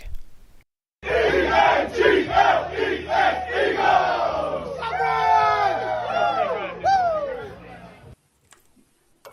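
A big crowd roars and chants at an Eagles football game in a Loch Lomond whisky ad, loud and sustained, with rising shouts and whoops toward the end before it cuts off.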